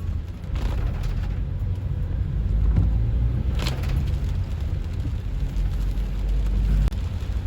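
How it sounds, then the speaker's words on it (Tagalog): Heavy traffic on a busy Metro Manila road in the Buendia area during monsoon rain, a dense continuous rumble of engines with passing vehicles and occasional louder surges. "Matindi lang ang volume ng mga sakyan, kaya nagkaka-traffic."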